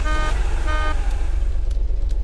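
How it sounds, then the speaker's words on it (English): A car horn in the Unturned video game sounds in two short, loud honks over a steady engine rumble, close and alone. "When in a vehicle, press the left mouse to honk or right mouse to use the lights."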